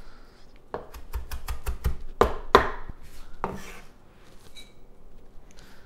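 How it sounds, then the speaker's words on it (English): A knife chops fresh parsley on a cutting board in a home kitchen with a quick run of crisp, evenly spaced taps, then a few heavier strokes and a pause before one last chop. "And chop that up a little bit."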